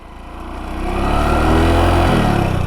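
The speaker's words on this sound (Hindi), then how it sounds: "बाइक आवाज़ कर रही है ना बहुत ज़्यादा।" A motorcycle engine idles, then revs up loudly and holds a strong, rough roar close by, the pitch shifting slightly near the end as the clutch engages; no voices.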